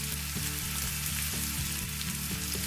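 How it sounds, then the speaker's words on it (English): Onions and mushrooms fry in olive oil in a pan over medium-high heat, giving off a steady sizzle with a few soft stirring knocks. No voices are heard. "the first thing that goes in is the onions, as always. And next on the pan goes the mushrooms"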